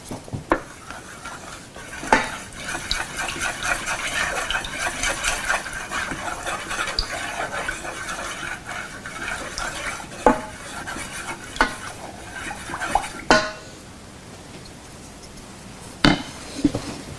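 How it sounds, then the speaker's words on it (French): A utensil stirs a thick mixture of shea butter and sweet almond oil in a pan for hand cream, with steady scraping and swishing, punctuated by a few sharper knocks against the side. "Et je mélange."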